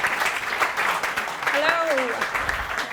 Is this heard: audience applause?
yes